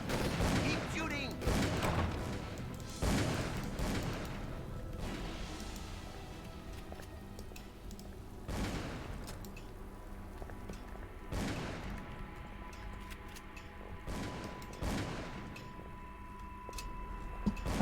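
Rapid gunfire rattles through a shootout in the horror game Call of Cthulhu: Dark Corners of the Earth, with sharp repeated bursts clustered at the start and scattered shots later over a dense, rumbling game soundscape.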